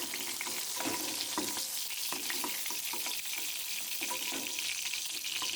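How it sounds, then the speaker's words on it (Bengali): Pieces of pointed gourd (potol) fry in oil in a pan with a soft, steady sizzle, while a few faint clinks and stirring sounds punctuate it quietly throughout, with no voices. "পটলগুলো লাল লাল করে ভেজে নিলাম।"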